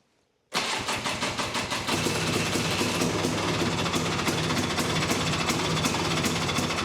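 A 400cc two-stroke quad engine starts and runs steadily close by, a loud, continuous buzzing idle with rapid rough pulsing that holds level with no talk.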